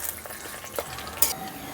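Whole spices, bay leaves, dried red chillies and cumin seeds fry in hot oil for a rohu fish curry, a steady close sizzle with occasional scrapes and clinks of a spoon stirring.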